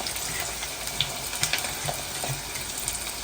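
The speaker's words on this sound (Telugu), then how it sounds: "ఆయిల్ వేడైపోయింది ఇప్పుడు ఉల్లిపాయలు వేస్తున్నాను" Thinly sliced onions fry in hot oil, a soft steady sizzle with scattered pops and crackles, fairly quiet and without speech.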